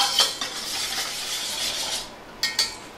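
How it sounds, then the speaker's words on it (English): Garlic cloves and kosher salt being mixed in a bowl, a steady scraping stir with a few sharper clinks of a utensil near the end, close and fairly quiet with no talking. "4 cloves of garlic, and a tablespoon of kosher salt. Mix this all up"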